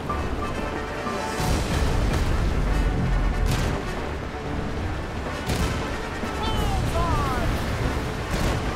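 Heavy booming cannon blasts in Kingdom Hearts III roll through a dense, noisy ship battle scene, with a continuous rumble, repeated sharp bursts and some voices mixed in.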